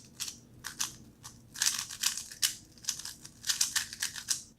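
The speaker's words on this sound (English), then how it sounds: "It has that kind of clack to it." GTS2M 3x3 speed cube turned by hand in rapid bursts, giving sharp, light clacking clicks in quick irregular clusters, close and fairly clear with no talking.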